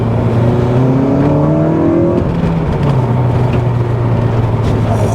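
A high-mileage Honda Civic Type R FN2 modified for track days roars under hard acceleration, its pitch climbing through the gears with loud, continuous rumbling and road noise throughout.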